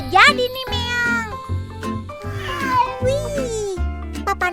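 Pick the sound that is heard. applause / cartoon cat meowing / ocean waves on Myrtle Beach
cartoon cat meowing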